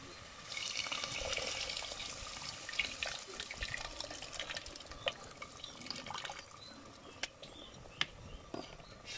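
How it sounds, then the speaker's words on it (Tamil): Rice-washing water pours into a village-style fish curry of sautéed onion, tomato, masala and tamarind. A soft, steady pour and splash runs for several seconds with small drips and clinks in a home kitchen. "நான் வந்து அரிசி கழுவுன தண்ணி சேர்த்துக்கிறேன்."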